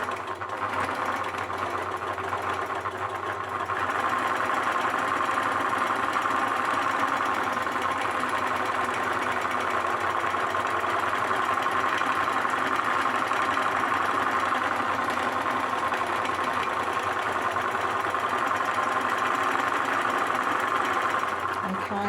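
A sewing machine runs steadily and loudly for a long stretch, stitching along a marked yellow line around a curve, with an even mechanical hum and no breaks.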